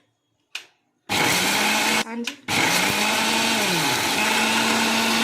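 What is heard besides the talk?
mixie grinder running, grinding ingredients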